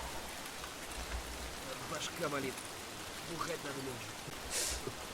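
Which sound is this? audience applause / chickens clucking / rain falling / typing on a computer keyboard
rain falling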